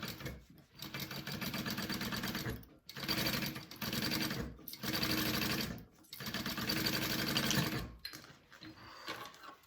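A sewing machine runs a 1/8-inch stitch on a bowler bag, whirring steadily in several sustained runs separated by brief stops, close and clear with no voices.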